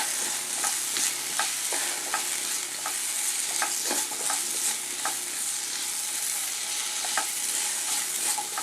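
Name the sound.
stirring and roasting coriander powder in oil for egg kurma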